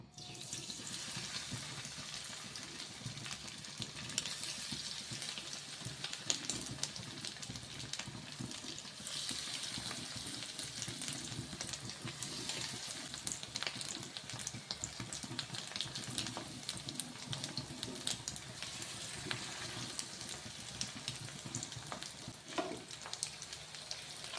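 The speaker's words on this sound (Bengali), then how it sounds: "এবার আমি গরম তেলে ফ্রাই করব।" Dahi kebabs, four shaped patties, frying in hot oil: a steady, dense sizzle and crackle that holds at even loudness throughout with no speech.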